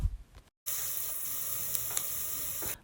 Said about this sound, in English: Once the oil is heated, I'll go in with my chopped onions